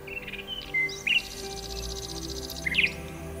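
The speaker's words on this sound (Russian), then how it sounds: "Птицы поют." Birds sing by a river on a bridge in early spring: several short chirps and a longer trilling song stand out clearly, fairly near, over a quiet, calm outdoor background.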